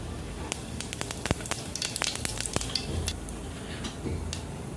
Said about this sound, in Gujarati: તેલ આપણું ગરમ થઈ ગયું છે હવે આપણે જીરું નાખી દઈશું